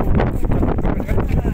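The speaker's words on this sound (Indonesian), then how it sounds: "Nah, prosesi itu suara angin loh." Wind gusting outdoors in the Karo highlands, a loud buffeting roar pushing against the microphone in uneven surges throughout, with speech faintly mixed in.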